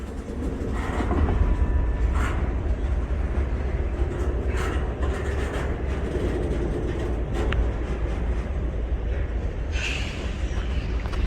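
A train rolls along the rails at Erwin with a loud, continuous close rumble and occasional clanks and squeals on top.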